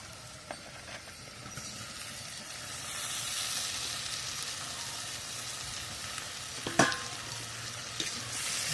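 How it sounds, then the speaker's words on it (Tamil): Chopped tomatoes fry in hot oil in a pan for a fish curry, giving a steady hissing sizzle with occasional clinks and scrapes of stirring, close and moderately quiet, without talking. "தக்காளி போட்டு நல்லா வதங்க வச்சுக்கணும்."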